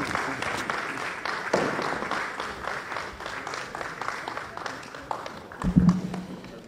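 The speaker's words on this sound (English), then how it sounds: "Please let the applause be louder." An audience at a lecture on active citizenship applauds, a dense steady patter of many hands clapping at moderate distance, with a brief louder bump near the end.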